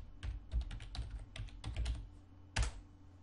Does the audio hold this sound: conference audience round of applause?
no